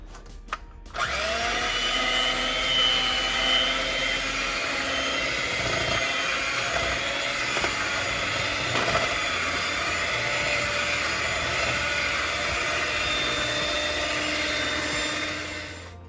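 An electric mixer beating coconut cake batter at medium speed, a loud continuous whirring motor drone that starts abruptly and runs steadily for about fifteen seconds before tapering off.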